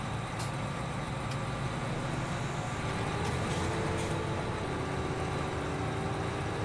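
A John Deere tractor engine runs steadily in Farming Simulator 17, a constant broadband diesel drone with no change in rhythm, heard alone without talk.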